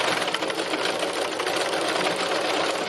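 A sewing machine runs continuously at speed while doing free machine embroidery on fabric, giving a steady, close, whirring rattle of rapid stitching with no talk.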